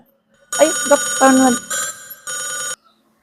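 A telephone rings with a loud, melodic ringtone in several bursts lasting about two seconds, then cuts off into silence.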